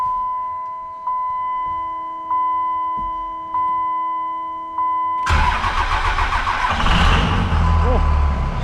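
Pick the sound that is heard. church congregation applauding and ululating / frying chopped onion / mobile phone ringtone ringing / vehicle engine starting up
vehicle engine starting up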